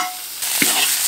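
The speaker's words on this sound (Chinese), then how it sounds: "要先把个羊排上的水汽炒干" Lamb ribs are stir-fried in a pot to cook off their moisture. After a quiet start, a bright sizzle rises at once and carries on, with a brief scrape of stirring partway through.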